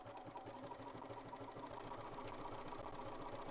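A sewing machine runs steadily, stitching appliqué with a fast, even mechanical whir and a rhythmic low thumping. The hum is faint and continuous, with no voices over it.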